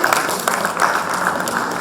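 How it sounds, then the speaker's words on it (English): Steady applause from a quiz competition audience for a college team, Christ University Central Campus, Bengaluru, being introduced at a regional quiz round; dense, even clapping throughout, fairly loud and close. "Round of applause to them."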